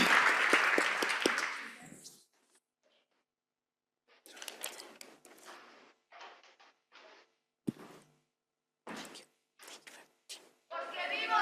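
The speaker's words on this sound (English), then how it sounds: "Can we give a big round of applause for all our panelists?" Audience applause for panelists at a conference opening ceremony, a dense burst of clapping for about two seconds that breaks off, followed by scattered short bursts of clapping or rustling with gaps of near silence.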